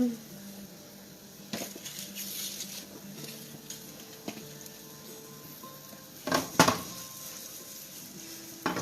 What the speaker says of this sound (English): So this is what we have going on in the skillet right now. Just a bunch of colorful peppers